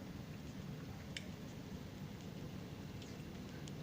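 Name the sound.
heavy rain falling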